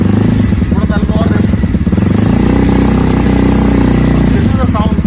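A Mahindra Mojo sports tourer motorcycle running with both exhausts working, giving a loud, steady low rumble that keeps going through the whole stretch with a little clatter on top. A voice talks over it.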